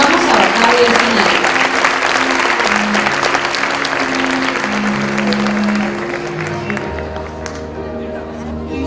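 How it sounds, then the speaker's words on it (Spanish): A dense crowd of clapping hands at a 2018 school graduation ceremony for eighth-grade students, loud and sustained with a faint musical tone underneath, thinning out and fading toward the end. "Le brindamos un aplauso a los alumnos ya licenciados y los invitamos a bajar del final."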